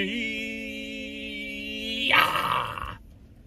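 A dog's low, drawn-out growl rises into a harsher snarling burst before stopping, heard alone and fairly faint as a sound effect dropped into a Christmas song.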